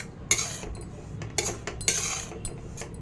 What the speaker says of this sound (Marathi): रव्याला नेहमी सारखं भाजावं आणि सारखं हलवत राहावं